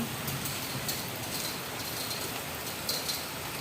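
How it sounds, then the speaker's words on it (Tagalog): Steady, dense hiss of heavy rain pouring continuously in Tandang Sora, Philippines, a broad even wash of noise with no pauses and no voices. "ang lakas ng ulan dito sa Tandang Sora"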